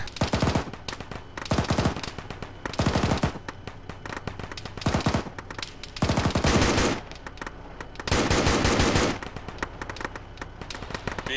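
Rapid machine gun bursts from a BTR armored vehicle in the Arma military game, several loud, dense volleys of automatic fire separated by short pauses, with sporadic shots between them.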